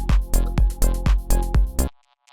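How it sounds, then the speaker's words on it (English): Minimal techno percussion, a loud, punchy loop of about seven evenly spaced hits with a deep low thump and a buzzy, processed top, cutting off abruptly before a faint tail. "Basically, it's just this weird kind of like techno percussion thing."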